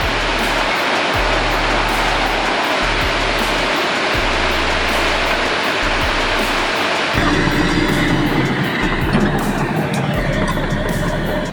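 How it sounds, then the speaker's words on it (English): Torrent of water rushing and roaring around the base of the Chagrin Falls Ivex Dam after concrete demolition, a loud continuous wash that swells fuller and heavier in the last few seconds, with no voices. "torrent of water rushes around the base of the Chagrin Falls Ivex Dam"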